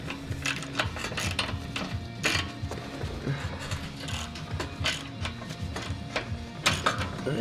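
A ratchet works on the downpipe bolts of a 2007 BMW 335i twin turbo, giving rapid continuous clicking with metallic rattles and clanks close by and no talking.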